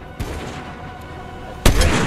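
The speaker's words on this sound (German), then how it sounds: "ich werde von irgendwo gesniped." Two sharp, heavy sniper shots ring out in the video game Fortnite, one at the start and a louder, closer one near the end, separated by a quiet stretch of low game ambience without speech.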